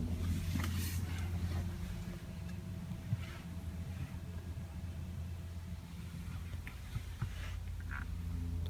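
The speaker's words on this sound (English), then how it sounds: "start it up, and see how it sounds." A 2016 Audi A7 Prestige S Line with the 3.0T engine and Quattro idles with a steady, close, low engine rumble that holds even throughout.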